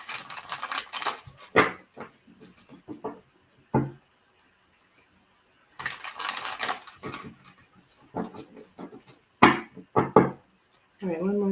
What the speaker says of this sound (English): All right, one more shuffle here.